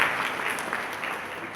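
Guests clap together at a Kerala Christian engagement ceremony, a steady wash of applause from a gathered crowd at moderate distance, with no speech over it.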